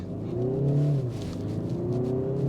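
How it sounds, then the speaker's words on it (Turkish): A Kia Sportage 1.6 CRDi diesel SUV accelerates at full throttle in sport mode, a steady, loud engine drone climbing in pitch, the rumble rising then settling into a continuous higher whine. "Sport modunu aldım. Dip gaz yaptım ve kalktık."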